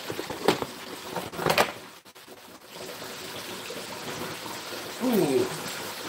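Hot oil in a turkey deep fryer set up in a garage, bubbling with a steady fizzing hiss punctuated by a few louder pops and crackles, moderately close.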